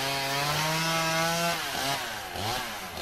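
A harsh, buzzing saw-like rasp as a dog saws through plants with its teeth in a Zelda video game, its pitch wavering and dipping near the end, like a cartoonish chainsaw effect.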